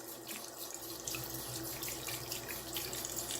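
Water runs from a faucet into a sink in a continuous rushing splash while makeup brushes are rinsed, with slight changes as the flow is interrupted.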